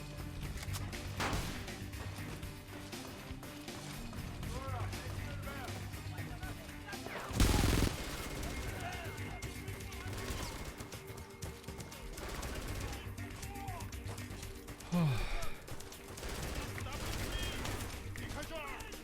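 Gunfire from a video game's one-hit shotgun, loud blasts standing out at a few points over a busy game soundtrack, with someone talking over much of it.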